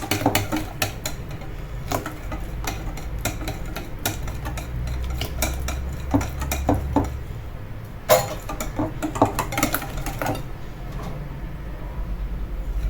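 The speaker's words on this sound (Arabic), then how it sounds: "انا كنضيف الزيت انا كنخلط حتى ينسجموا مع المكونات" Cake batter mixed by hand in a bowl while oil is poured in, with rapid, irregular clinks and scrapes of a utensil against the bowl, close and fairly steady, with no talking.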